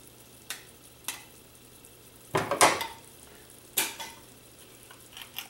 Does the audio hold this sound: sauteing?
yes